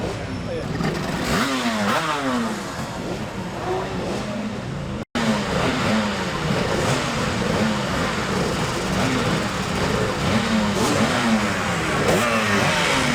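A 250cc Honda racing motorcycle at the Classic TT, its engine revving and shifting in rising, wavering sweeps as it passes, with other bikes and a commentator's voice running underneath.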